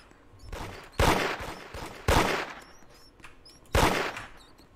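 Gunshots from the Roblox game Da Hood: three loud, sharp shots about a second apart, each trailing into a short echoing decay, with quieter clicks and rattles between them.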